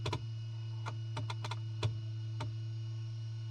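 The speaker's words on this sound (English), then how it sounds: "I need to fix up my dead zone, that's why it keeps clicking" Repeated clicking in a Piper PA-28 Arrow III flight simulator caused by a controller dead zone: sharp, irregular clicks over a steady low electrical hum, with no talking.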